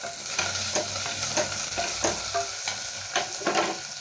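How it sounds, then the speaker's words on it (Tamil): Spoon stirring potato masala with green chillies, coriander and curry leaves frying in a pan: steady sizzle with repeated scraping strokes, close and fairly loud, no talk. "இது நல்லா கிளறி கொடுக்கலாங்க."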